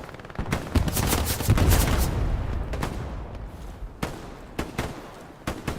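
Rapid gunfire and bursts of bullets in the World War II shooter Hell Let Loose, sharp cracks and clustered volleys at varying distances over a rumbling battlefield background.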